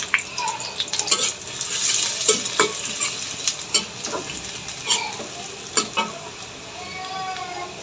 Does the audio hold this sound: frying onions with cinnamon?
yes